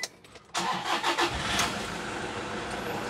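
A 2016 Toyota Fortuner engine cranks and starts after a brief quiet moment, catching with a few surging pulses before settling into a steady, close, rumbling idle.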